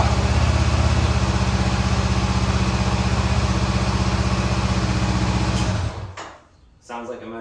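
A 2022 Honda CBR500R motorcycle with its stock exhaust idles close by in a steady, even throb. Near the end it cuts out, leaving a short quiet stretch and a few faint knocks.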